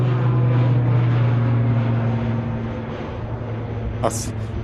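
An ATR turboprop airliner climbs away from the runway at Manchester Airport toward the Isle of Man, a steady droning engine hum with a low propeller tone, heard at a distance under people talking.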